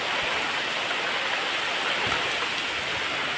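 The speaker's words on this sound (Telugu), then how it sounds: "వర్షం మామూలుగా లేదు" Heavy rain pours down over open cotton fields in a steady, dense, unbroken hiss with no voices.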